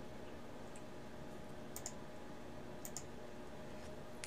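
A computer mouse clicks softly in a quiet room: two quick double-clicks about a second apart, over a faint steady background hiss.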